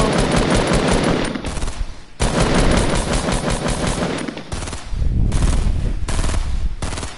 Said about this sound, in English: No, I'm just shooting down the supply drop.